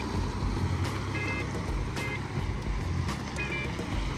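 A Scania 112 truck engine runs steadily at idle in the background, a constant low rumble with faint intermittent beeping above it and no talk over it.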